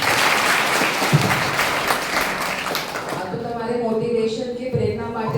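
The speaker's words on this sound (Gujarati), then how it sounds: "સૌ માટે એક વખત ફરીથી તાળી બજાવી." An audience claps for talented children in a dense, loud burst of applause that fades into voices talking over the last couple of seconds.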